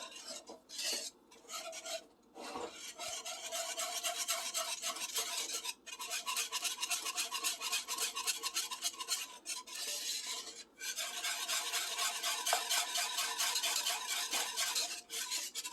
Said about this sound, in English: Stir till it's melted and smooth